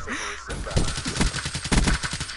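Rapid bursts of automatic gunfire in a shooter video game, close and loud, a rattling string of shots after a brief lead-in.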